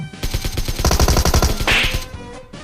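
Pistol gunfire in the PUBG Mobile video game, a loud, close run of rapid, evenly spaced shots followed by a short trailing burst, with no talk over it.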